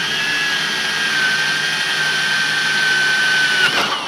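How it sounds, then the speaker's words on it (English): A power drill with a quarter inch bit bores engine mount holes for a model aircraft, giving a steady, loud, close high-pitched whine that holds for several seconds before briefly cutting out near the end. "Go ahead and drill through, making sure not to drill into our fingers."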